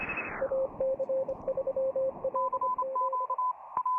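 Amateur radio receiver hiss narrowed by a tight filter, with clear Morse code tones keyed in short dots and dashes, first a lower-pitched signal and then a higher one, steady and fairly loud above faint residual noise.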